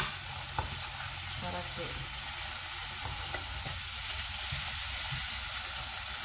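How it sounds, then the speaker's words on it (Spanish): Oxtail fat fries in a pan with a close, steady crackling sizzle and occasional pops, while a voice briefly speaks over it. "Vamos a dejar nada más que se sofría"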